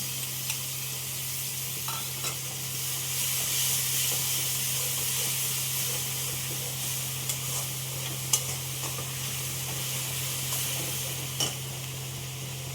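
A spice mix with bay leaf frying in a pan, a steady loud hiss of sizzling oil over a low constant hum, punctuated by occasional sharp clinks of stirring, no speech.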